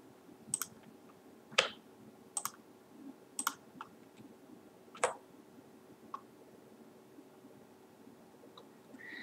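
A computer mouse clicks several times while the Shift key is held to select projects in design software, giving sharp, separate clicks at irregular intervals, close and fairly faint over quiet room tone.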